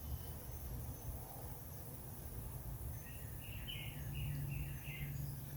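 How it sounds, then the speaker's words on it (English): Birds chirp and sing outdoors in nature on a fair day, the calls thin and somewhat distant above a steady low rumble of wind or traffic, with a brief cluster of brighter tweets near the end. "I love hearing the sound of the birds out here in nature"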